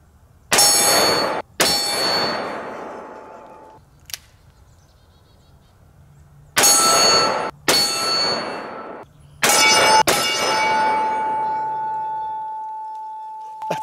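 Heavy .500 revolver rounds (S&W Magnum versus Linebaugh) strike a steel target outdoors. Loud sharp metallic clangs come in pairs with ringing tails, and a long sustained ring hangs after the last hit.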